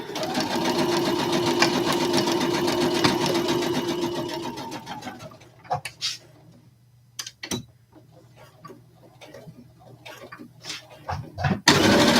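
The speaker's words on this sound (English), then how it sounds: "I always try to remember to backstitch." A sewing machine stitches seams in a steady, loud mechanical whir for several seconds, then stops and gives way to scattered clicks, handling noises and faint room sound.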